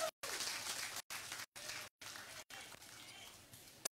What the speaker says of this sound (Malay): Kita bagi tepukan yang kepada Datuk Jaiz